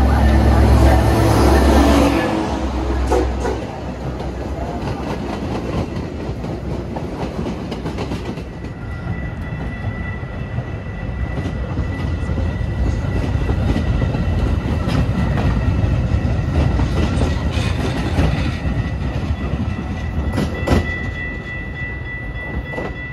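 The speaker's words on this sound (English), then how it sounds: "number 2237 to Big Timber is now arriving." A Metra Milwaukee West Main Line commuter train pulls into Franklin Park station, a steady loud rumble of wheels and rail clatter with a platform announcement at the start, holding for about twenty seconds before easing slightly.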